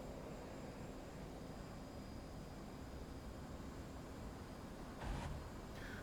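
Steady airplane engine drone in a flight combat video game, a continuous broadband roar with a faint whine, quiet and unchanging, with a brief soft swell near the end.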